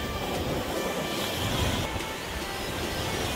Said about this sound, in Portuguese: mar tá bem agitado,